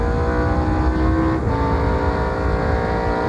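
Onboard roar of Ron Fellows' NASCAR Busch Series race car at the 1999 Lysol 200, a loud sustained engine drone holding high revs with a brief dip as it shifts, no talk over it.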